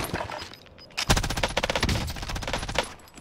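Rapid automatic gunfire from Call of Duty Warzone rattles out in dense bursts of sharp, loud shots, with a brief lull before the main volley and no talk over it.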